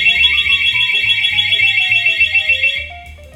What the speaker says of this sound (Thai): ล็อกก็คือคนมาโดนรถเราขยับรถเราจะมีเสียงร้องเตือนก่อนนะครับครั้งแรกนะครับ